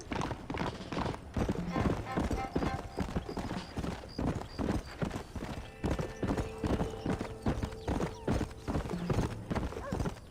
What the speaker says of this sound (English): I have a horse right here.